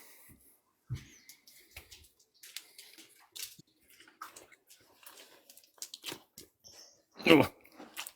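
Several pet dogs snuffle, pant and lick close by, with soft sniffs, wet mouth noises and a louder snort near the end amid quiet stretches.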